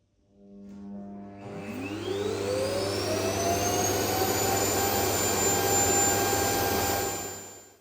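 The self-emptying station of a eufy Clean X8 Pro robot vacuum sucks out the dustbin with a loud whooshing roar whose whine rises in pitch, holds steady for several seconds, then fades.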